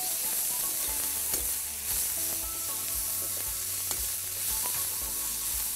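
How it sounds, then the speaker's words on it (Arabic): Sugar caramelizes in a hot pan while being stirred, giving a constant close sizzle and frying hiss with light scraping and clinks from the stirring. "نحاول نقلبه ونكرمله شوي"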